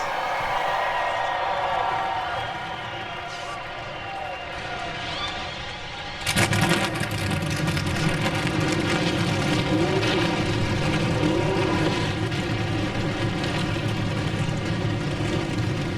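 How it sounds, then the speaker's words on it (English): NASCAR stock car engines fire up together at Michigan International Speedway before a 400-mile race, a sudden dense roar that jumps in loudness and then holds as a steady, rumbling idle. "The engines have fired and we are ready for 400 miles here at Michigan International Speedway"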